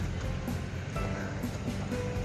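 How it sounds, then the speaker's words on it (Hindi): A river flowing through dense forest in Azerbaijan, heard as a steady, broadband rushing wash of water that holds constant throughout without pause, with no voices over it. "यहाँ पर पानी भी बह रहा है, नदी।"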